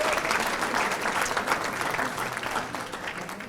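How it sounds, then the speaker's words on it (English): Banquet guests at a bowling association awards dinner give a round of applause, a dense, even clatter of many hands that holds steady and tapers slightly toward the end. "Let's give him a nice round of applause"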